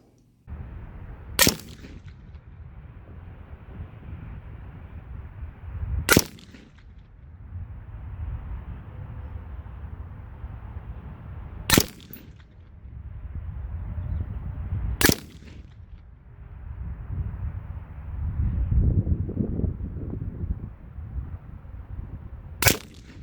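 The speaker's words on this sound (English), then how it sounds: "let's go ahead to the range and check out how the gun does at 100 yards" Five sharp PSA Sabre-15 MK12 Mod 0 rifle shots at an outdoor range, spaced several seconds apart, each a loud crack standing well above a steady low background rumble.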